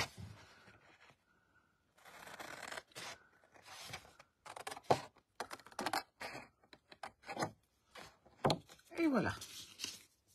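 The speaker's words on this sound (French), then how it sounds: "Je coupe bien sur la ligne de pli." Scissors snipping through folded card along the fold line, a series of close, crisp cuts in short irregular bursts, with a brief spoken word partway through.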